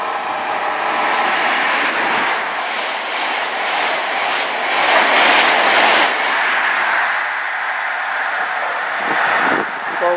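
HST power cars 43186 and 43042 run through Keynsham station, a sustained roaring rush of a passing express train with wheel and wind noise, loud and steady throughout, swelling midway and with clattering near the end.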